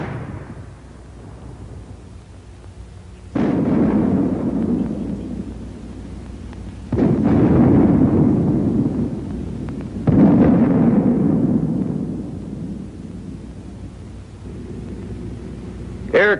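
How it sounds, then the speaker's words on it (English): WWII US Army mortar smoke shells bursting, three heavy booming impacts roughly three seconds apart, each rolling off into a long rumbling decay. "The mortar also fires smoke shell."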